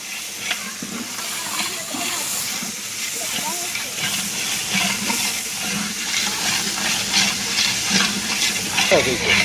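Rice with onion and tomatoes is stirred in a sizzling pan, with a continuous frying hiss and steam and scraping stir sounds throughout, while someone talks over it.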